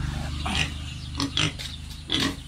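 A native pig grunts close by in a few short, low bursts, with soft snuffling between them.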